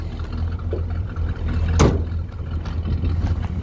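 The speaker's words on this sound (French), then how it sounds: "on entend malgré tout ce petit vombrissement qui vient de l'arrière, qui est des plus agréables" Low V8 rumble from the rear of a 1965 Pontiac Le Mans convertible, a steady idling drone held close throughout, swelling briefly to a slightly louder pulse midway before settling back.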